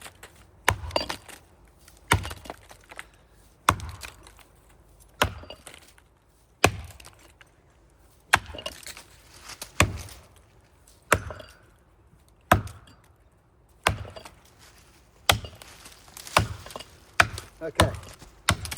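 Axe blows striking a big maple tree being felled by hand without a chainsaw, a dozen or so sharp woody chops in an irregular rhythm, close and loud, with wood cracking between strikes.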